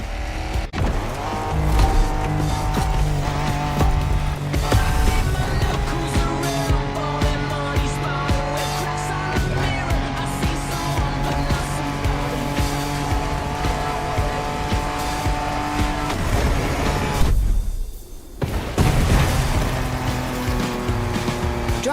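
An off-road race car roars through the wild in The Crew video game, its engine holding a loud, continuous whine with shifting pitch and occasional tire noise, briefly dropping out near the end before returning.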